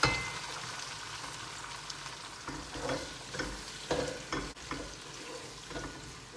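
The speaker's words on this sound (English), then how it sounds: "now we are going to add our onions" Onions sizzle in a frying pot while being stirred, a continuous close frying hiss broken by irregular scraping and clattering strokes of the spoon.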